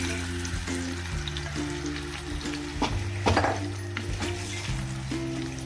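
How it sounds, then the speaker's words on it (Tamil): Marinated chicken for hariyali chicken fries in hot oil, a steady close sizzle that flares briefly midway, with faint stirring and utensil clinks. "இப்போ நம்ம மேரினேட் பண்ணி வச்சிருக்க சிக்கன் அதில் போட்டுடலாம்."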